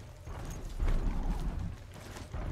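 Hoofbeats of a ridden mount in Horizon Zero Dawn, a steady clip-clop rhythm running through the whole stretch, moderately loud and close with no talking over it.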